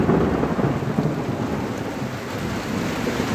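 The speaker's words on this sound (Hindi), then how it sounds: "देख के पा रहे हो पहली बार बारिश हुआ है।" Heavy rain pours steadily over a village, a dense continuous wash of falling water with low rumbling beneath, fairly loud and close, with no voices.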